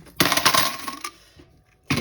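A handful of coins tips into a savings container as part of a penny-challenge budget check-in, a loud metallic clattering rush lasting about a second, then a few scattered clinks and another burst of coins at the end.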